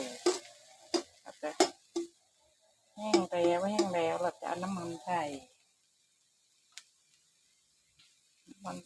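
A spatula scrapes and clicks against a pan while glass noodles are stir-fried in a small home kitchen, with sharp separate taps first, then a stretch where a voice hums or speaks over the cooking, then scattered faint clicks.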